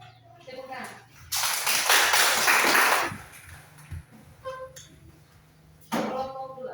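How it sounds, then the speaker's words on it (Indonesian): Classroom applause after a group presentation, a burst of clapping from many students lasting about two seconds, with people talking before and after. "Tepuk tangan."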